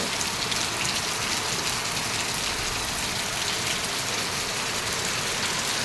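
A steady downpour drums on the ground and roofs, a thick unbroken wash of rain, close and loud throughout.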